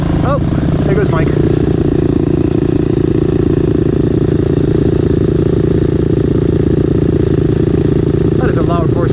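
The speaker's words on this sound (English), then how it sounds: "That is a loud four-stroke." A loud four-stroke engine on a KTM 350 EXC-F dirt bike drones steadily and close on a trail loop, with brief rising revs near the start and end and a voice talking over it.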